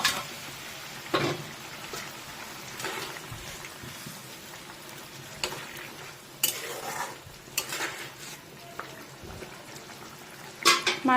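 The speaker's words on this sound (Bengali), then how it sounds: "মাছটা দিয়ে দিচ্ছি" Golden fish pieces are slipped into a simmering fish curry, with a low bubbling sizzle broken by irregular spoon scrapes and clinks against the pot, up close and without talk.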